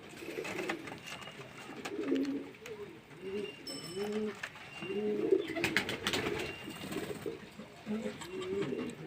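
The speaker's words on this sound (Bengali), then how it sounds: "দেখুন না পায়রা সুস্থ একদম ফ্রেশ পায়রা" Healthy pigeons coo repeatedly in soft, rolling phrases nearby, with several birds overlapping at a moderate level and occasional brief clicks and chirps, plus faint talk in the background.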